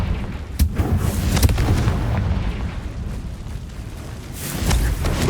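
Confringo fire-blast spell in the video game Hogwarts Legacy, a loud booming explosion bursting out and rumbling on, with a second heavy blast rising near the end.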